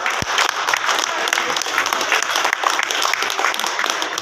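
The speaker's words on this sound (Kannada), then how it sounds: "ಅವ್ರಿಗೆ ಚಪ್ಪಾಳೆ ಮೂಲಕ ಅವ್ರಿಗೆ ಸ್ವಾಗತ ಕೋರಿ" An audience at a school alumni teacher-tribute ceremony gives sustained, steady applause to welcome guests, a close, dense crowd clapping throughout.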